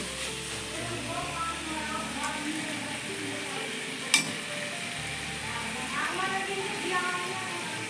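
Spices sautéing in a pan give a faint, steady sizzle and hiss at moderate distance, broken by one brief metallic clink partway through, with a low background hum underneath.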